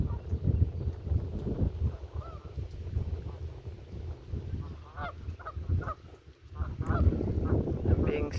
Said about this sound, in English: I'm being serenaded by geese.